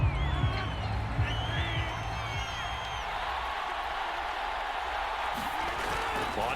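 Stadium crowd at a Packers versus Ravens Super Bowl in Madden 22, a broad steady roar of cheering and applause with scattered whoops, loud and continuous, alone.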